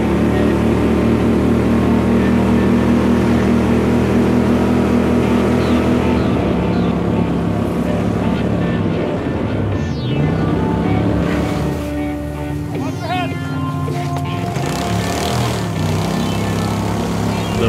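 A motorboat is launched and run on a flooded river during spring duck-hunting scouting, its engine a loud, steady drone with water rush and wave noise throughout.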